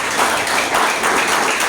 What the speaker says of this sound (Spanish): Dele un aplauso a Jesucristo